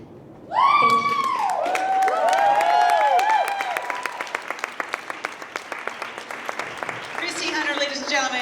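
An audience applauds after a talk, a loud burst of clapping that swells, then thins into scattered separate claps near the end, with a voice speaking over it at the start.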